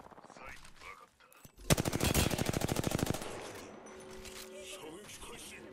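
Rapid automatic gunfire in the battle royale shooter Apex Legends, a loud burst of evenly spaced shots lasting over a second, with quieter game sounds and a voice speaking before and after.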